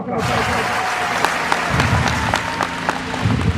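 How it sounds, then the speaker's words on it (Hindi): An audience at an Olympians Society election meeting gives sustained applause to welcome a speaker, dense and continuous with sharper individual claps popping through and voices faintly underneath. "मैं आप लोगों से रिक्वेस्ट करूंगा कि अपनी भरपूर तालियों में इस्तकबाल कीजिए"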